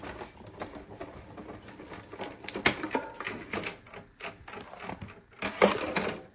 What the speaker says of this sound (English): we'll roll it through our Sizzix Big Shot Plus